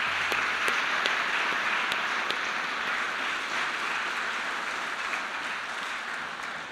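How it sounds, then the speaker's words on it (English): A crowd at a panel event on the Indigenous Voice to Parliament gives a big round of applause, a dense, steady roar of clapping with a few sharper claps, sustained throughout and slowly tapering. "So a big round of applause."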